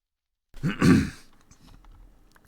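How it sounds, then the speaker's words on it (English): A single throat clearing, close and fairly loud, starting abruptly after a moment of silence and trailing off into a quieter rasp; no talk alongside. "let me clear my throat."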